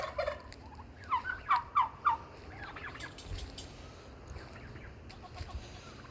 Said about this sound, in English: The turkeys are talkative today.